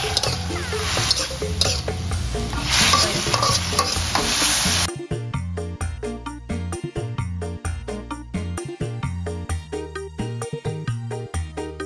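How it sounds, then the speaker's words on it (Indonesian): Anchovies being stir-fried with eggplant and long beans in a pan: loud sizzling first, then repeated scraping and stirring strokes of a utensil against the pan with softer frying underneath. "Kita oseng teri lagi nih."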